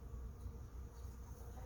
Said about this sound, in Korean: 열심히 지금 벌이 날아다니면서